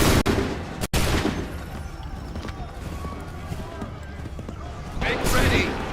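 Musket volleys fire in Assassin's Creed 3, sharp booming bursts across a battlefield, heard under shouted orders and constant background game noise.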